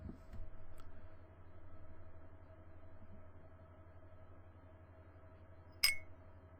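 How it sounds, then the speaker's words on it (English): A sharp glassy clink used as a sound effect strikes once near the end, standing out above a low steady electronic hum and faint background noise. "So it's almost like hitting glass."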